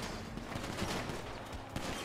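Rapid gunfire bursts from a GTA 5 police shootout, a dense fusillade of overlapping shots with sharp cracks throughout, loud and continuous, with no talk.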